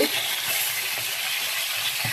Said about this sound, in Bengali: মুরগির মাংসগুলা ভেজে নিব রোস্ট করার জন্য